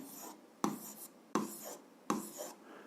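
A pen writes down a maths problem in four separate scratchy strokes, each starting sharply and then fading, with quiet pauses between them.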